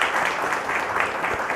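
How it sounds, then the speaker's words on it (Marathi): A crowd at a religious satsang gathering claps to welcome a guest, a large grape-exporting farmer, producing a brief burst of dense, steady applause that fills the room. "सर्वांनी टाळ्या वाजून त्यांचं आपण स्वागत करू."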